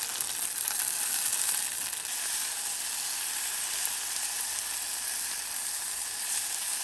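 Pork rib meat and mustard-leaf kimchi sizzle in a pan over a campfire by a rainy valley, a continuous close crackling hiss that stays steady from start to finish with no voices.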